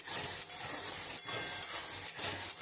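Chicken ball gravy being stir-fried in a pan, with repeated spatula strokes scraping through the thick mixture in a steady rhythm over a soft, close sizzle.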